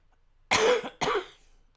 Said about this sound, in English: I might have to just pop off camera and just clear my throat a little bit here.